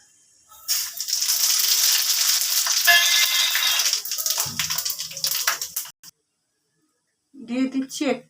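Panch phoron whole spices dropped into hot oil in a kadai with dried red chillies, giving a loud, steady sizzle and crackle that fades near the end before a voice speaks.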